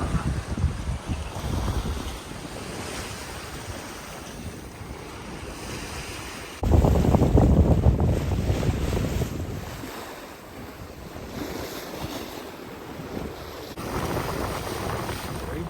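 A sailboat under way off Arctic Svalbard, with strong wind buffeting the microphone and waves rushing and slapping against the hull in loud, surging bursts that ease and build again.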